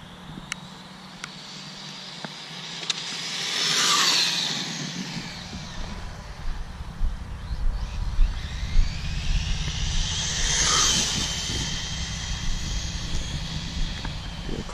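A Traxxas 4tec 3.0 RC car on foam tires makes a test pass on a wet road in the rain, its motor whine rising as it approaches, fading, then returning louder for a second pass over steady rain noise.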